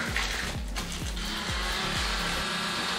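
An Oral-B Smart Clean 360 rechargeable electric toothbrush motor runs steadily with a loud, close, continuous buzzing whine and a faint rhythmic pulsing roughly every half second, with no talking.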